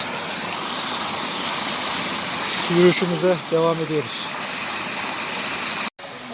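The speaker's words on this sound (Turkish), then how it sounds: "Acı suya gelmeden önce böyle küçük küçük şelaleler bizi karşılıyor arkadaşlar." Small waterfalls on the Acısu stream give a steady, broad rush of falling water throughout. Someone speaks briefly over it partway through.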